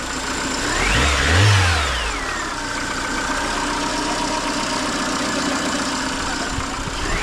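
A barn-find Peugeot 307 engine, smoking and making an unhealthy noise, runs close by and rises in one loud rev before settling back to a steady, rough idle.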